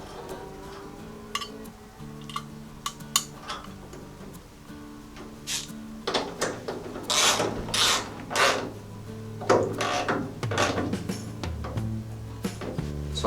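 Close-up clicks and ratcheting while a tail light is bolted onto a Jeep J10, irregular metallic taps and scraping with short bursts of wrench turns, no talk.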